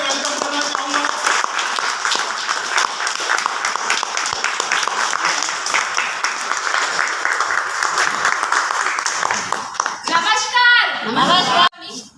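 An audience at a product presentation in Ahmedabad applauding a speaker's welcome, dense sustained clapping from many hands that fades out near the end, with a voice starting to speak at the close.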